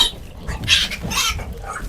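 Thirty-five-day-old piglets in a pen with sawdust bedding, grunting and squealing in a busy cluster of close overlapping calls, with no talking.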